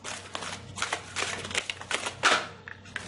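Tarot cards being shuffled by hand, a run of soft papery riffles and flicks with one sharper snap near the end, close and fairly quiet with no talk.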